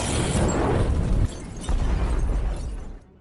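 A drug lab warehouse explodes in an action film, a loud booming blast followed by a second roaring burst and rumbling fire that fades away, dense and close.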